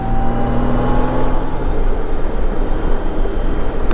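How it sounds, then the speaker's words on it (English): A Honda Goldwing touring motorcycle engine running while being ridden, heard as a loud, steady drone mixed with wind rush, close and continuous throughout. "So I'm showing you guys how good this bike runs firsthand. You can hear it"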